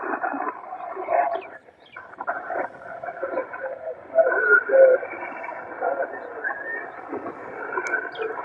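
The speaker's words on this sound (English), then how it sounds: "we have somebody close on frequency, you can hear them" A Yaesu FTDX 10 ham radio receives a nearby station close on frequency, producing a band-limited, crackly voice-like signal with fading hiss that swells and dips throughout.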